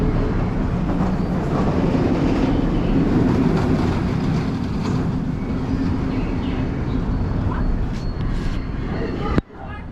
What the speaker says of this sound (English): There's a train going to go past it.